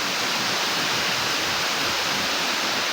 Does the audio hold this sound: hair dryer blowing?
no